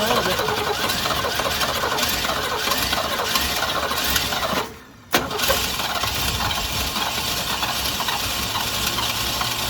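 A flooded 1966 Ford Mustang engine cranks and runs with a loud, steady, rattling churn. It cuts out briefly midway, then picks back up at full strength.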